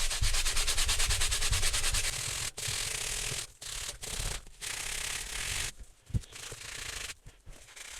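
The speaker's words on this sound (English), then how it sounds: "Now we're going to get on to brushing the midsole." A brush scrubs the midsole of a worn Nike Dunk sneaker during cleaning, making loud, close, continuous rapid scratching that breaks into a few short bursts near the end.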